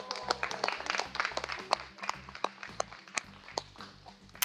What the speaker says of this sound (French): vous vous applaudissez